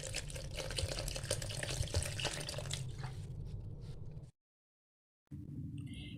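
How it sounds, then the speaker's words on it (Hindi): Water poured into a yogurt and gram flour mixture for kadhi, a steady close trickle and splash lasting about four seconds, then a brief silence before faint kitchen noise resumes. "थोड़ा सा इसमें पानी शामिल करेंगे।"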